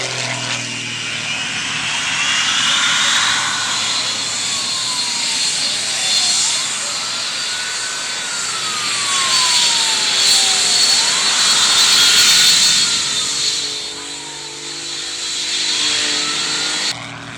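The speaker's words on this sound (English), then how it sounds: "2 Rolls-Royce Viper jet engines from the British military" Loud, sustained roar of a jet-powered truck's two Rolls-Royce Viper jet engines, rising and falling whine, steady and close, swelling through the middle and easing slightly near the end.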